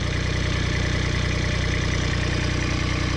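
A Kubota ZD1211 diesel zero-turn mower engine settles back to idle, a steady low chugging rumble with fine regular knocking pulses, loud and close throughout with no talk.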